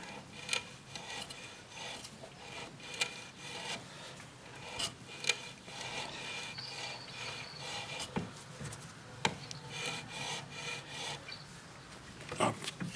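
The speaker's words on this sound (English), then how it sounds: "it's cutting the thread now" A threading die cuts an 8mm thread onto the end of a metal bar clamped between two pieces of wood in a vise, giving a steady rasping, scraping grind with periodic sharper catches, close and continuous throughout.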